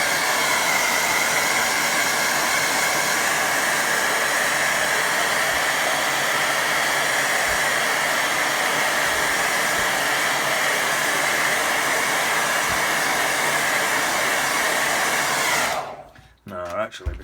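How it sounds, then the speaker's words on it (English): Hair dryer blowing steadily and loudly at close range over a watercolour painting for about sixteen seconds, a continuous broadband roar that cuts off abruptly near the end. "I'm going to give it a quick blast with hair dryer."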